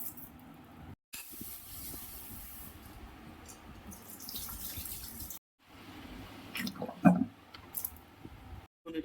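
Cut garlic gets rinsed under a running kitchen tap, steady splashing water with squishy handling and a few louder sloshes, broken by short silent gaps.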